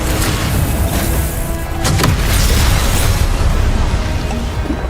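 Confringo explosive spell blasts in the video game Hogwarts Legacy, a loud dense roar with a sharp burst near two seconds, continuous booming energy filling the whole stretch with no talk.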